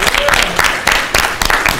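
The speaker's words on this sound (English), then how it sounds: "Can we give him a good applause?" Audience at a community meeting in a neighborhood center breaks into loud, dense applause, a steady wash of many hands clapping close by for the whole stretch.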